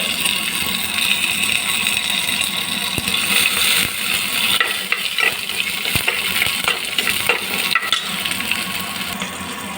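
Ginger frying in hot oil with mustard seeds and cumin, a loud continuous sizzle and crackle up close, with scattered pops and spoon clinks against the pan.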